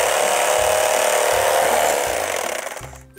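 A Cuisinart CEK-30J electric knife buzzes loudly and steadily as it cuts, a dense motor whine with a rhythmic low judder from the reciprocating blades, then it winds down and stops at the end.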